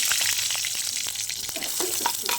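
Cumin seeds and curry leaves fry in hot oil in a pan for a vada pav potato filling, giving a close, steady crackling sizzle throughout with no voices.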